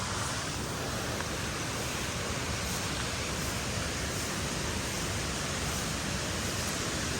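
A waterfall near cocoa trees on a hillside outing around Kozhikode pours steadily, a dense, even broadband roar that stays loud and close throughout with no voices.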